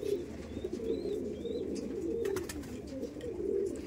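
Madras pigeons, a male and a female, cooing in soft repeated low rolling calls, near and fairly quiet, with faint chirps over the top and no talk.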